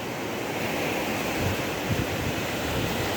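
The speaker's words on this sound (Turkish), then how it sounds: "Bugün deniz dalgalı ama plaj çok şahane." Steady roar of rough surf washing onto a beach at Akçakese Bay, Ağva, broad and continuous, with a few low wind rumbles against the microphone.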